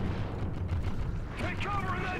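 Barrels explode amid gunfire in Call of Duty Ghosts, a dense, continuous rumbling blast that fills the short stretch, with someone talking over it.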